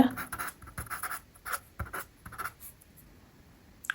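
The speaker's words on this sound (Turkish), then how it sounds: "Ben bunu şuradan alt tarafa yazacağım." A red marker writes on a board during a fifth-grade maths lesson, giving a series of quick, close scratchy strokes in irregular bursts and short pauses.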